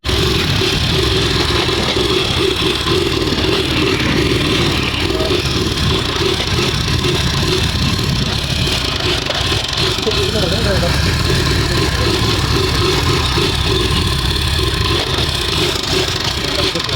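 A motorcycle engine runs steadily throughout, a loud continuous rumble close by, with faint voices underneath.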